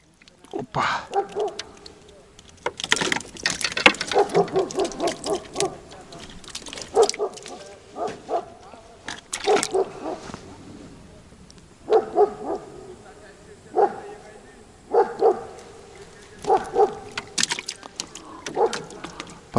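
Dog barking repeatedly in short bursts near a fishing boat on the water, loud and close, with pauses between volleys and someone speaking in between.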